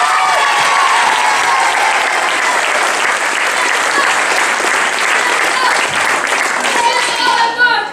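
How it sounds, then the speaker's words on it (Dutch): A loud, dense ovation from a school-musical audience thanks the sound and light crew, many hands clapping steadily for several seconds before trailing off at the end, with children's voices faintly mixed in. "Een super applaus voor deze twee."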